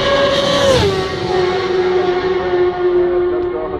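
A Supersport race motorcycle tears past at speed up Bray Hill on the Isle of Man TT course, its loud high-revving engine howl dropping in pitch as it passes, then sustaining a long droning whine reverberating up the valley.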